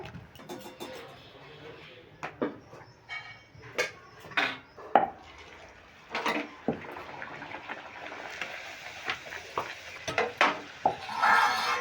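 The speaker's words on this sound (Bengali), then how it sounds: "একইভাবে আমি সব ডাল পুরিগুলো ভেজে নিচ্ছি" Chana dal-stuffed dal puris fry in oil, heard as irregular crackling bursts and light clatters over a quiet background, coming and going rather than holding a steady hiss.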